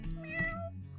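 A single short cat meow from the game Dwarf Fortress, a clear tonal cry rising and falling, heard alone with no talking.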